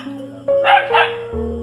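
A pet dog yelps and barks in a few sharp, close bursts over a steady background hum.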